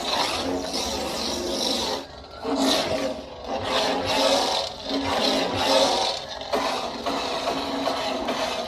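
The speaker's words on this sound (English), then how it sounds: "The swings on this font are just really gritty. They're just so dirty." Gritty, dirty-sounding lightsaber swings from a darkside-themed Proffie sound font, with repeated whooshing, distorted hums that rise and fall in quick succession, loud and close, with no voices.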